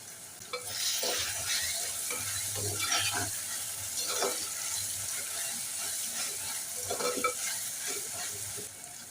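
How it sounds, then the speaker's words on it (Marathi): Steady sizzling with intermittent scraping and stirring strokes of a spatula as onions sauté in a pan for mutton biryani, close and continuous, with no talking. "परतून घेऊया थोडा फ्राय केलेला कांदा घालूया"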